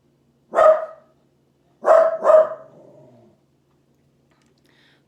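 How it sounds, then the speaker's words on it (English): Indoors, a dog barks three times, one single bark then a quick double bark about a second later, close and loud against a quiet room. "I apologize for the dog barking"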